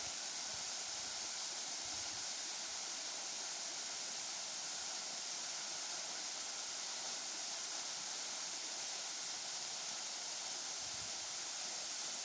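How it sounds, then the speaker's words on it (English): A waterfall roars as a steady broadband rush of falling water, constant and unbroken, at a moderate distance, with no voices. "And now let's enjoy the sound of the waterfall."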